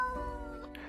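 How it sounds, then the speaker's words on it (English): A cat character in the video game Death & Taxes gives a single short, uncertain meow, close and clear over a soft steady game music bed. "the cat answers with a meow of uncertainty"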